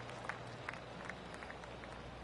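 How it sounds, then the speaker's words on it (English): Sparse, polite golf clapping from spectators at TPC Scottsdale: a few faint, scattered claps rise over a steady murmur of distant outdoor crowd noise. "Oh, golf clap."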